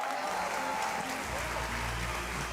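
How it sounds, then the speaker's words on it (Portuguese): An audience claps for a woman on stage at a live event, the applause sounding distant and fairly faint. A low steady hum enters partway through. "Salva de palmas para ela."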